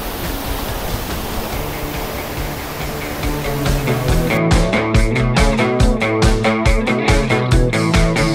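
Water rushes down the small Thoseghar waterfall near Satara, spraying hard, as a steady, loud broadband roar; about halfway through, a rhythmic pulsing layer joins the rush.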